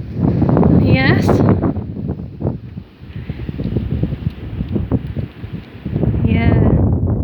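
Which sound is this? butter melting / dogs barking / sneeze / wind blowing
wind blowing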